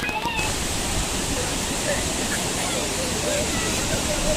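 Lakkam waterfall in Munnar pouring clear, fast-flowing cold water, a dense continuous rushing roar filling the scene at close range with no break.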